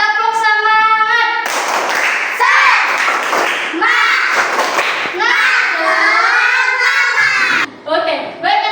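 Schoolchildren in a classroom perform a rhythmic spirit clap together, loud patterned bursts of hand claps mixed with their chanting voices, close and energetic throughout.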